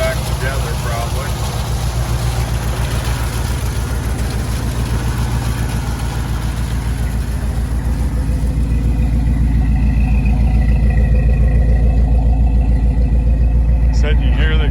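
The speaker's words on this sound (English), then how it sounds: "Motor runs nice and smooth." A 1971 Ford F250 pickup idles steadily up close, a deep, smooth low rumble with even exhaust pulsing that holds throughout, while someone talks over it.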